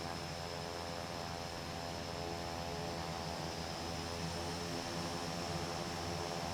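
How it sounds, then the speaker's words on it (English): Twin turboprop engines of a Cessna SkyCourier running after start in Microsoft Flight Simulator 2024, a steady droning whine with a broad hissing roar and constant tonal hum, even and unbroken throughout, no voices. "We have two beautiful engine starts."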